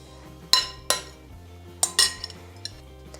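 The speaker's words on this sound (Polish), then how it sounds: "Ziemniaczki mamy już doprawione, więc przekładam je do pojemnika" Seasoned potatoes are moved into the basket of a Panasonic NF-CC500 air fryer, with several sharp metallic clinks and knocks against the container, close and irregular, followed by smaller taps, no talking.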